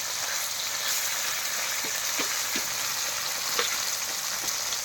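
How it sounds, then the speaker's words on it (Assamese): Fish frying in hot oil in a pan, a steady, even sizzle with a few faint pops, close and continuous. "এতিয়া মাছটো ফ্ৰাই কৰি থাকোঁ"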